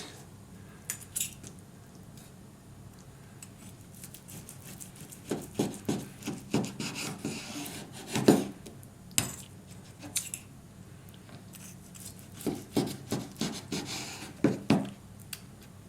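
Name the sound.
knife cutting a cooked steak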